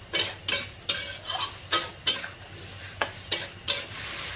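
Tri-colour bell peppers and chicken are stir-fried in chili paste with a splash of stock. Sharp, regular spatula scrapes and clanks against the pan, about ten strokes, sound over a soft sizzle, near and clear, with no voices.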